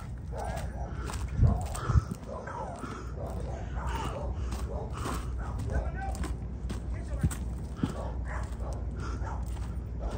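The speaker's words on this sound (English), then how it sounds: "Dogs are coming over here." Dogs bark in a few short bursts near a homeless camp, mixed with footsteps and rustling movement, while a person talks throughout.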